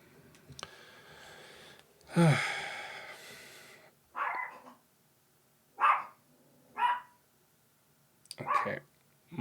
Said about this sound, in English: my dog is losing her shit again downstairs